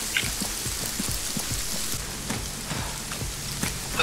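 Rain falls in the ArmA 3 video game as a steady, dense hiss with scattered patters of drops, even and soft throughout, with no voices over it.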